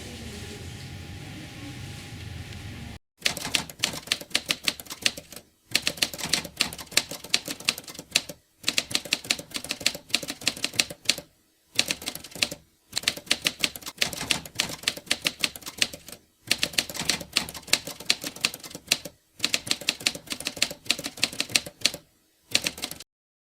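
A manual typewriter clatters away at close range in rapid runs of sharp keystrikes, each burst broken by short pauses, following a few seconds of low background hum at the start.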